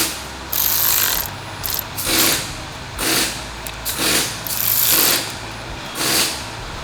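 Ratchet snugging the bolts on a 2018 Jetta water pump, bursts of rapid clicking ratcheting strokes in several separate runs, close and fairly loud with short pauses between.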